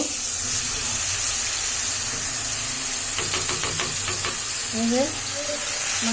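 Ginger garlic paste hits a hot pan of spiced meat and sizzles steadily throughout, a close, continuous frying hiss, with a few quick stirring scrapes and clinks near the middle.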